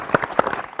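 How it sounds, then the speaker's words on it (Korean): Brief burst of congratulatory applause from an audience at a team competition, a few scattered claps over a fraction of a second. "다시 한번 축하의 박수 부탁드리겠습니다."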